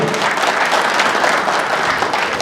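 A crowd at an MLA's cheque distribution event claps loudly and steadily throughout, dense applause with no pauses.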